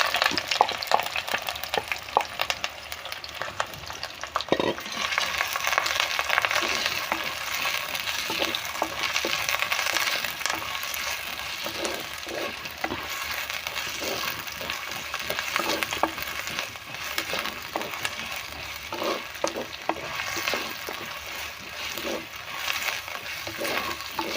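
Chopped onion, green chili, ginger, curry leaves and garlic fry in hot oil, a dense continuous sizzle with crackling pops and occasional stirring, close and loud without speech.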